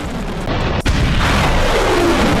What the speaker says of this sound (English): Missiles launch.